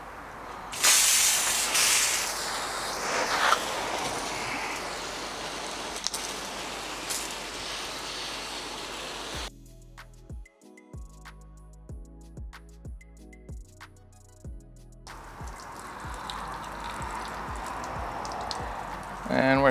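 A WaterPORT portable water sprayer runs in flat mode, giving a loud, close hissing spray that cuts out partway for a stretch of quiet clicks and hum before the spray resumes.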